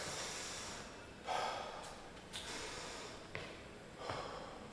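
Deep breaths during a personal training session for shoulder pain, heard as four or five close, soft breathy inhales and exhales spaced about a second apart, with no talking.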